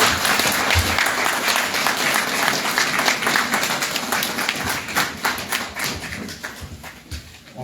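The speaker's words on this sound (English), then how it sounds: "So I want to give them a big round of applause for what they did." Audience at a police precinct community council meeting inside a church gives a big round of applause, dense and loud at first, then gradually thinning and fading.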